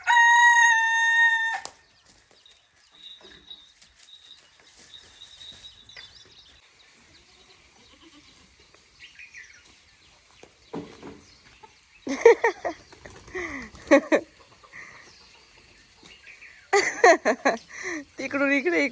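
A village rooster perched in a lemon tree crows once loudly and close at the start, followed by a long quiet stretch; later, bursts of people talking come through.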